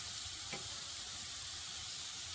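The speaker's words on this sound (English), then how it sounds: "we're sauteing the onions at this point" Chopped onions sauté in oil for lentil soup, giving a steady, even sizzle close by with no pauses and no voices.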